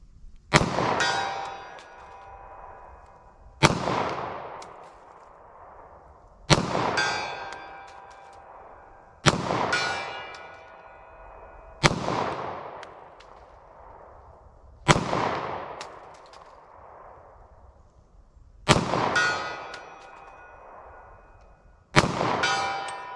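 .40 Smith & Wesson pistol fired at a target: eight loud, sharp reports spaced about three seconds apart, each with a ringing, metallic tail that dies away before the next shot, with no talking.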